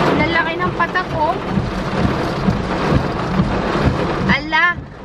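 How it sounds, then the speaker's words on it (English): Heavy rain pours steadily in a continuous loud hiss during a storm with lightning, with brief voices or tones near the start and end. "Lakas ang ulan."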